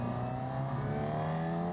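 Honda CB1000GT motorcycle accelerating out of a slow zone onto an open road, a steady, loud engine drone with rising harmonic pitch, recorded up close without talk.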